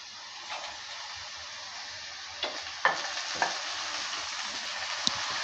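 Chopped gima greens are stirred into fried potatoes in a hot pan, a steady sizzling hiss with a few sharper scraping clicks of the spatula toward the end, close and alone without talk.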